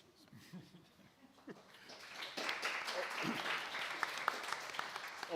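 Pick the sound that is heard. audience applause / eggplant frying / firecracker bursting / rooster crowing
audience applause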